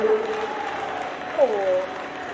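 An audience at a Spa-Francorchamps endurance race podium ceremony applauds the finishers, a soft, steady patter of clapping heard at a distance beneath a voice speaking over it.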